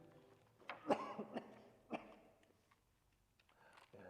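A few quiet, rough coughs and throat-clearing sounds during a church worship service, irregular and fairly faint.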